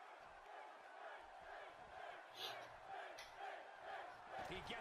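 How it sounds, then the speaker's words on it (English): Wrestling arena crowd at a SmackDown event chanting for Finn Balor, a steady loud roar of massed voices with rhythmic swells throughout, no clear individual speech. "the crowd chanting, Finn, Finn, Finn, Finn."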